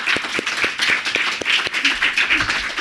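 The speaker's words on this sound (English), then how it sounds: "can we have one more round of applause for these folks?" Audience at an academic panel on Indigenous-settler interactions applauds the panelists, a steady wash of many hands clapping at moderate distance throughout, with no talk over it.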